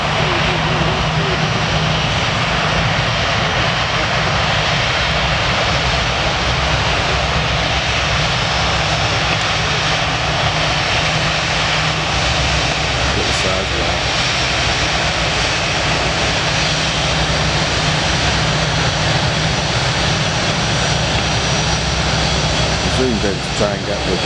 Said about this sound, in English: So I can get all this and taxi him to take off.